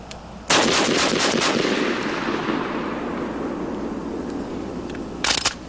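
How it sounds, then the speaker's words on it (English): A shotgun fires low recoil buckshot in rapid succession outdoors, a burst of loud sharp blasts followed by a long fading echo, then two more quick shots near the end. "That's low recoil buckshot, and even though in the manual it says use high speed only, it seems to run the low speed quite well."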